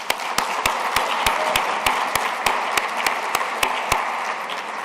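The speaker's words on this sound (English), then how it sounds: "A big round of applause for these folks." Audience applause at a university social justice keynote event, a steady wash of many hands clapping with some sharp individual claps standing out, filling the room continuously without talk.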